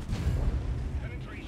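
A single heavy cannon shot from an STRV K tank in World of Tanks booms low and loud at the start, then fades into a rumbling decay with faint mechanical noise afterward.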